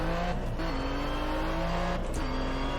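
A Chevrolet Corvette C7 Stingray in Test Drive Unlimited 2 drones with a deep, steady engine note, its pitch shifting up and down as the throttle is worked through corners, loud and continuous without any voices.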